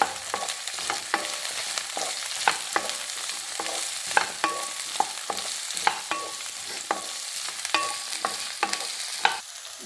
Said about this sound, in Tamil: இப்போ காலிஃப்ளவர் இதே நல்லா இதில் வதக்கணும்.